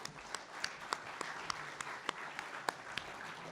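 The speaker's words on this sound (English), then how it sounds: "Let's give them a round of applause." Faint, distant applause from a small remote audience congratulating a second-place team at a cybersecurity Capture the Flag event, a few sharper claps standing out over a steady low wash.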